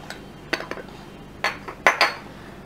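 A tablespoon clinks against dishes while scooping salt, a few bright separate metallic taps in two small clusters, close and clear, with no talking.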